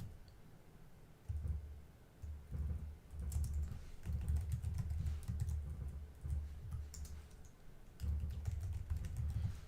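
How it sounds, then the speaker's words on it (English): Hard, steady typing on a computer keyboard, with dense clicking and heavy low thumps as the desk shakes under each burst of keystrokes; close and continuous with brief pauses. "Can you hear my desk shaking as I'm typing?"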